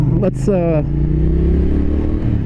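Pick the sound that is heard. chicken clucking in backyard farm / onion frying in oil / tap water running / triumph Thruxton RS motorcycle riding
triumph Thruxton RS motorcycle riding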